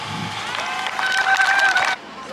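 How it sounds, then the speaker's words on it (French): Crowd at an anti-Rockwool protest rally in Soissons applauding speakers, a dense wash of clapping with some cheering and a sustained whistle-like tone, steady and loud throughout before dropping off near the end. "je pense que vous pouvez les applaudir"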